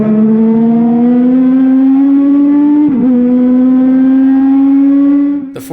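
Race cars roaring around the oval at Colorado National Speedway during a two-lap green-white-checkered shootout, a loud steady engine drone climbing slowly in pitch, with a brief dip near the middle and a sharp crack at the very end.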